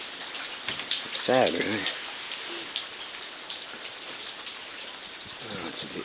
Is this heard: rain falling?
yes